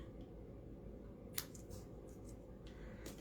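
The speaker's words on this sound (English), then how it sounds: "Gotta trim off the end of happy birthday." Scissors trim paper for a handmade birthday card, giving a few faint, crisp snips spaced irregularly over a steady low background hum, with no talking.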